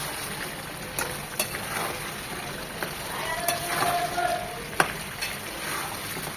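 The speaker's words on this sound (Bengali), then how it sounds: "ভুনা ভুনা করে নেব চিকেনটাকে এই তেলের মধ্যেই। তেল মশলা চিকেন এরকম ভুনা ভুনা হয়ে যাবে।" Chicken pieces fry in oil with spices in a pan, a steady close sizzle broken by scattered clinks and scrapes of stirring.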